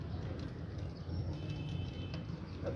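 A pigeon coos softly in a low, rolling murmur against faint background noise, quiet and somewhat distant.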